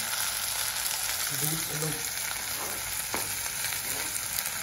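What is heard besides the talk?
onions frying in a pan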